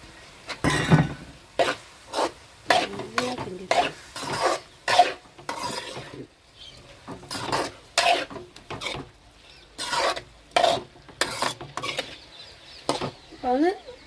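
Masala powder is stirred into a squid curry with tomato in a pan. About a dozen rhythmic scraping strokes of a spoon against metal come close and clear, with soft sizzling between them.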